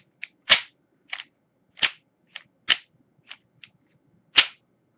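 A handgun slide is racked by hand against a weak recoil spring, giving a series of sharp, close metallic clacks: about eight separate snaps, some doubled, spaced irregularly with quiet between them.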